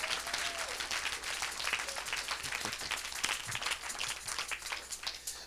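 Church congregation applauding in a steady burst of clapping that fills the whole stretch, moderately loud and a little distant, with no talk over it.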